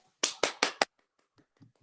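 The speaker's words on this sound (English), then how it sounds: "take off of mute and give an applause" A few meeting participants clap over an online call, four sharp, loud claps in quick succession, then some faint scattered taps that die away.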